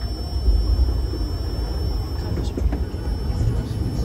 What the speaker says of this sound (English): This is the double track area where the train turns around and starts going back.